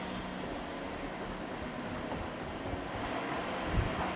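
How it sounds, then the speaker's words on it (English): Blower fans run in a basement, giving a steady, loud broadband whoosh with a low hum underneath that holds constant for a few seconds, with no talk. "you'll notice it's a little loud because we've got our little blower fans blowing"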